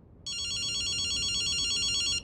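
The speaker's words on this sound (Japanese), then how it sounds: "電話だぜ。" A telephone rings in the video game Ghostwire: Tokyo, a single continuous electronic ring of about two seconds that starts abruptly and cuts off cleanly, with no talking.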